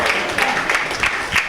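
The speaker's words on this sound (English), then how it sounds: "I love that 2 people clapped for that" A short burst of scattered clapping from a small audience, a few pairs of hands patting out an uneven rhythm nearby.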